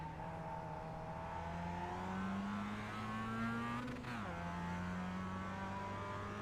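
Mazda MX-5 Cup race car engines drone in the iRacing game on Tsukuba Circuit, a sustained buzzing note climbing steadily, dipping briefly as revs drop, then holding again with faint overlapping cars and no talk.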